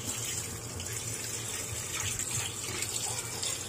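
Cold tap water runs steadily over cooked chicken in a kitchen sink, a close, continuous gushing splash that lasts throughout with no talking.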